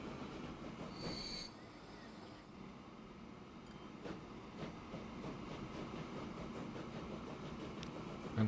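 Train running in the video game Transport Fever 2, a steady rolling rumble of wheels on rails with faint clicks and a brief squeal near the start, continuous at moderate loudness.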